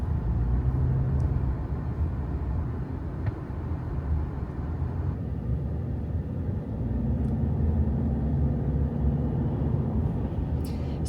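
A Subaru hatchback cruising with a low, even road rumble and muted engine hum from inside the cabin, steady and unbroken throughout, with no voices.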